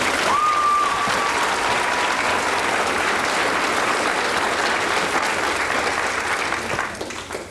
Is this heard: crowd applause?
yes